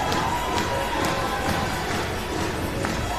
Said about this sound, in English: you hear the crowd erupting for the Bogan Hogan